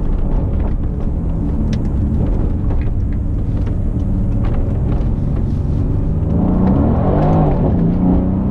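A Mercedes C63 AMG rumbles loud and close while driving, its engine roar steady and heavy throughout, with a rising rev near the end and faint crackles mixed in.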